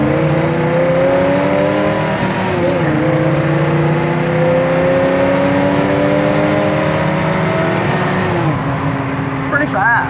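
A 1964 Chevelle Malibu SS under acceleration, heard from inside, a loud steady engine drone with rising and shifting pitch and people talking over it.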